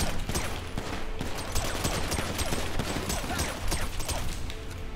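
Rapid gunfire in GTA V Online, a dense continuous fusillade of automatic shots, loud and close throughout the five seconds with no pause.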